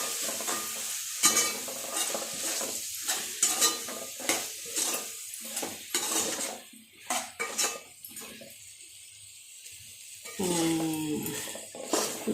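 Soaked soya chunks frying in a pan for soya rice bath, with uneven spatula scrapes and metal clinks against the pan over a soft sizzle, loud stirring bursts separated by brief quieter gaps.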